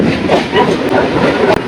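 A Chakra Rail train rolls across the bridge over the Ganga, heard from inside as a loud steady rumble and rhythmic clatter of wheels, with a brief knock near the end.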